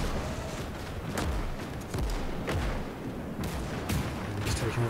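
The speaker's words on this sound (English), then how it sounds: "there comes the artillery" Artillery fire in the World War II strategy game Gates of Hell during a Soviet skirmish: repeated sharp blasts and booming shots at irregular intervals, fairly close, over steady battle rumble.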